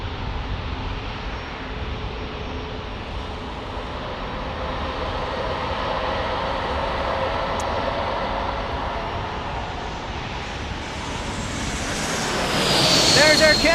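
Air Canada Airbus A220 airliner from Toronto, a steady broadband jet roar that holds for most of the stretch and swells louder near the end as it passes close, with people talking faintly underneath.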